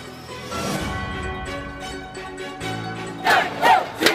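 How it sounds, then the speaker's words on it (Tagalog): A crowd greets Senator Cynthia Villar on her arrival at the COMELEC NCR office in Metro Manila with loud shouting and cheering, voices swelling and surging, then several sharp bursts of yelling near the end. "malakas na hiyawan at palakpakan ang sumalubong kay Senadora Cynthia Villar"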